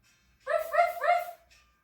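Children's voices imitate a dog barking during a kids' yoga class, giving three quick, close yaps in a row, then falling quiet.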